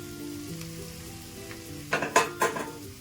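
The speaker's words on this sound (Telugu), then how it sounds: "వేసుకొని బాగా కలుపుకోవాలి దీన్ని ఇలా కలిపేసుకోవాలి" Soaked flattened rice (poha) being stirred with onions in a hot pan: a faint background sizzle, then a short burst of scraping and clinking stirring strokes near the end, close by.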